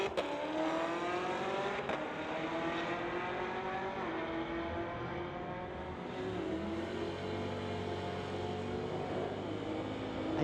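Two Chevrolet Camaro ZL1s, a 2020 and a 2018, drag racing at a street-legal event, a loud sustained engine roar with rising harmonic sweeps as they accelerate, continuous throughout with no talking.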